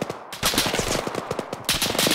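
Rapid bursts of automatic gunfire in the Arma video game battle, dense, loud, crackling volleys with a short pause between them, no voices heard.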